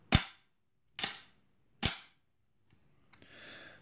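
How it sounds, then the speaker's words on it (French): A Soviet GOMZ Leningrad camera fitted with a Jupiter 8 50mm lens fires its shutter three times, crisp sharp clicks under a second apart, followed by a short, faint whirring as the spring motor winds the film on. "on appuie, l'appareil déclenche, et au moment où on relâche, le film s'enroule"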